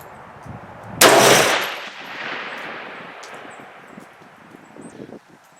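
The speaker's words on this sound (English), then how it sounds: "Alright, let's just shoot the rest of them and then we'll go see what the hell's going on." A single loud, close 6.5 Grendel rifle shot fires a Ramshot powder handload outdoors, a sharp crack with a long decaying echo over wind noise.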